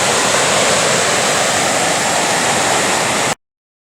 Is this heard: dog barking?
no